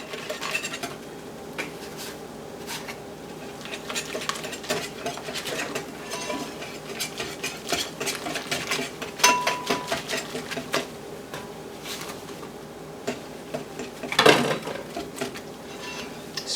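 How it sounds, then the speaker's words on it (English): Gluten-free, dairy-free onion ring batter is mixed in a bowl, with a utensil scraping and clicking against the sides in a steady, uneven rhythm, close by. "Scrape the sides, make sure you get all the dry stuff and the wet stuff together"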